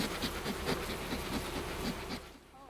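Honeybees in Kapisa province, Afghanistan, buzz in a dense, steady drone with pulsing swells as individual bees pass close, fading noticeably near the end, with no voices.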